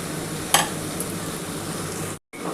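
Marinated chicken going into a hot pan of fried spice masala, a steady broadband sizzle with a sharp splash and burst as it lands, then continuous frying hiss, a brief silent gap near the end.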